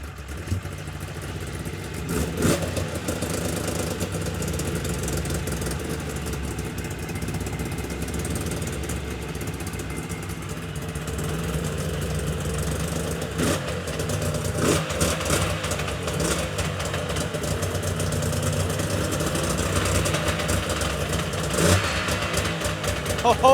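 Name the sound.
Yamaha Vmax 700 triple snowmobile engine idling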